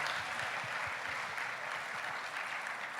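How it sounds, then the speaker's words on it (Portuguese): An audience at a congress for Adventist university students claps together, a dense and even burst of applause that carries on for a few seconds without any speech over it. "Então eu quero que você dê uma salva de palmas para você, universitário"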